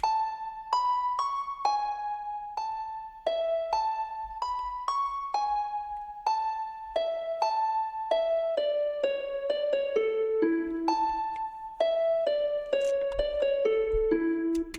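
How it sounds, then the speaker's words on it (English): A bright plucked synthesized harp plays a simple stepwise melody in the style of the Nintendo 3DS Internet Settings music, each note ringing with a soft reverb tail, steady and alone. "The next sound is a harp sound, right? And again, a melody, a nice simple melody."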